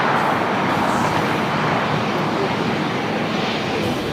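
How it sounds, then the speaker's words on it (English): A NetJets Bombardier Global 5500 business jet arriving at LAX produces a broad, steady engine roar at moderate distance, holding level throughout with some faint background voices. "It's also a NetJets Bombardier Global 5500 coming in from Oakland."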